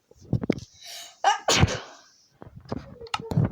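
A single person's sneeze, sharp and close, preceded by short breathy intakes and followed by a few soft mouth and breath noises, with no talk.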